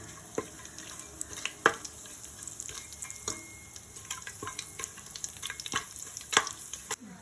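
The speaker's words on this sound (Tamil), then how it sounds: "எல்லா பொருளும் ஒன்றாவே போட்டுருங்க நல்லா பொரியட்டும்" Seasoning ingredients fry together in a pan for tomato rice under a soft, steady sizzle, punctuated by frequent loud spatula clinks and scrapes against the metal, with no one speaking.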